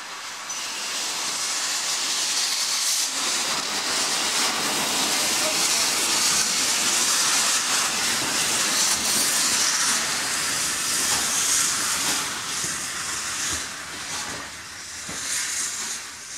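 A Hunslet Austerity saddle tank steam locomotive shunts on a preserved Isle of Wight line at Haven Street, giving off a loud continuous steam hiss and rumble that swells and eases.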